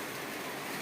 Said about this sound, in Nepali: हल्का पानी परेको अवस्था छ।